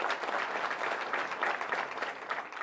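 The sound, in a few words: applause for new Chief People Officer appointment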